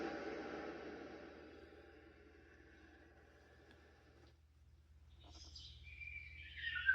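White-noise diffuser playing a forest ambience, a soft hiss bed that fades, then thin chirping birdsong rises toward the end, faint and with no talk.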